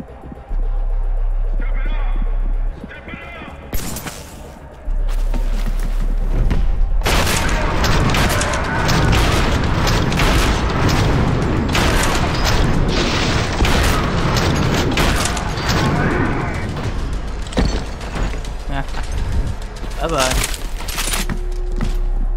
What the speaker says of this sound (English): Shotgun though.